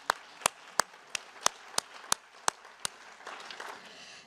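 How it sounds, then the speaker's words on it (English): At the opening of a nanomedicine conference, a single person claps slowly and sharply about nine times at an even pace, then fades into a soft murmur of scattered sound. "we will give him a warm applause"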